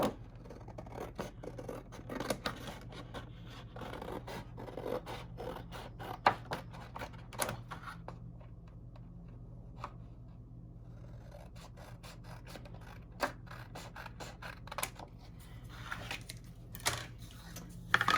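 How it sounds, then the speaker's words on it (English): Scissors cutting paper for a Dollar Tree Valentine craft, a series of close, crisp snips and rasping cuts in irregular bursts over a faint steady hum. "I am just going to use scissors"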